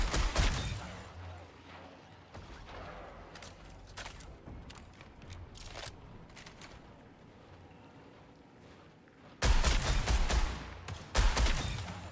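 Gunfire at enemies in the game Marathon, scattered sharp shots early on, then loud dense bursts of rapid fire near the end, over a low rumbling ambience.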